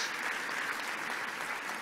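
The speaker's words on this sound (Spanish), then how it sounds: "dele un aplauso al Señor por el regalo de la Biblia" A church congregation claps and applauds, a dense steady wash of hands filling the room without pause, fairly soft and even throughout.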